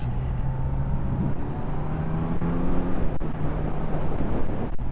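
A 2021 Kawasaki Z900 inline-four motorcycle held in third gear, its engine giving a steady, loud drone throughout with a slight rise in pitch toward the end, and no talk over it.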